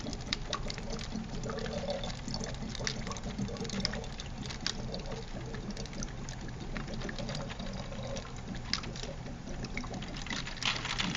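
Water swirled into a small vortex carrying debris, a steady liquid sloshing and pouring patter with faint clicks and rustles, continuous and moderately quiet throughout.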